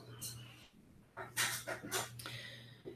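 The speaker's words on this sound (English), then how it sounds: "Inhale. Hold. Exhale. Inhale. Exhale." Slow, deliberate breaths, with a soft inhale followed by longer, airy exhales in a few distinct bursts, close to the microphone against a quiet low hum.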